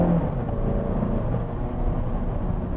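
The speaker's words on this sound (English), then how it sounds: "smooth acceleration" A 2014 Mazda3 s Grand Touring with the 2.5 engine accelerating smoothly on the road, a steady low engine and road drone heard from inside the car, with no talking.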